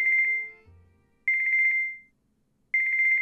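A mobile phone ringtone plays alone: three bursts of a bright, warbling electronic trill separated by short gaps, with a brief lower tone after the first burst.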